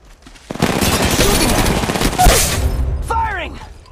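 Gunfire in Apex Legends Mobile: a dense, sustained volley of rapid automatic shots, loud and close, with a short voice-like tonal sound near the end.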